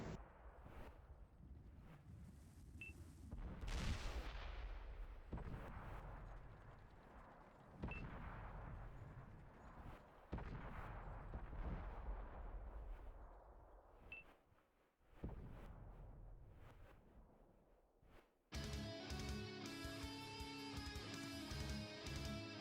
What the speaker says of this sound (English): So Abysmal Prince and them taking shots from the E50 from Coping Maniac and from Cav Ranger.